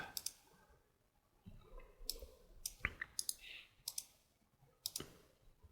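Computer mouse clicks during image editing: sparse, sharp, quiet clicks, some single and some in quick pairs, spread irregularly over a near-silent background with no talk.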